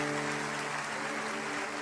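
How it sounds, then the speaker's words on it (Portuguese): Applause from a church congregation during a Santa Ceia service, a steady dense wash of clapping throughout with tonal hum underneath. "as palmas estão mais agudas, né?"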